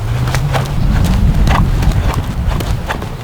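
A horse trots steadily in a riding arena, hooves striking in an even, rapid clip-clop rhythm throughout, fairly close and loud over a low rumble of movement.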